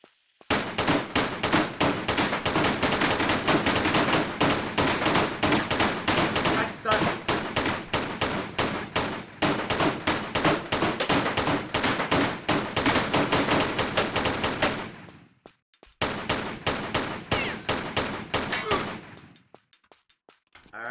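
Lara Croft's pistols fire in rapid, sustained volleys in the Tomb Raider I–III Remastered game at Lara's Home, a loud dense stream of shots that breaks off briefly near the end before a final burst.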